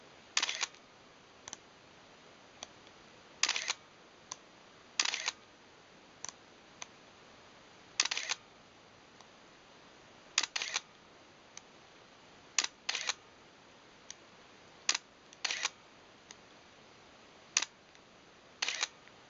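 A Nikon F4 film camera shutter fires repeatedly across different speeds, sharp mechanical clicks, some single and some in quick double snaps with varying gaps, crisp and close in a quiet room.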